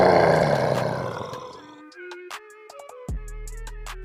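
A cartoon tiger lets out a loud, sustained roar as it attacks an elephant, the roar fading after about two seconds into sparse effects and a sudden low thud near the end.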